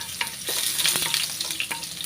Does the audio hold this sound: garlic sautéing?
yes